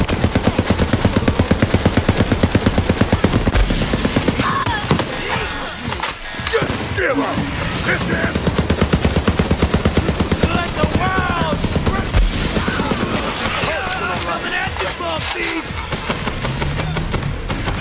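Constant rapid automatic gunfire from the video game Borderlands 3, loud and close, hammering almost without pause, with voices talking over the shooting.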